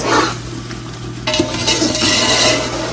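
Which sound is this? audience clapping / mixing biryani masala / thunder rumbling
mixing biryani masala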